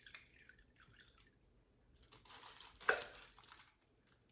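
Juice poured into a pot roast in a slow cooker, a soft liquid splash and dribble with crinkly wet sounds, building to a brief louder gush before tapering off.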